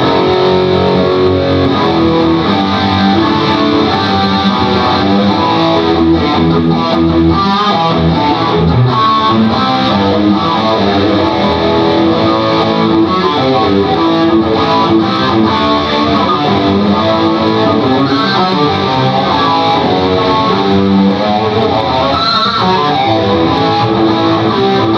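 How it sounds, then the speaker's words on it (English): Electric guitar played through a chorus pedal placed ahead of a distorted tone, giving a loud, continuous, thick and shimmering sustained sound throughout with no pauses and no talking. "I'm going to take that same chorus I played before, that pedal. It's going to go in front of this distorted sound."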